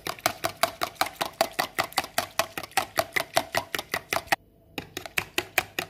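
A utensil stirring yeast into a cup of warm water, giving quick, evenly spaced tapping clicks against the container, close and steady, with a brief pause near the end before the rhythm resumes.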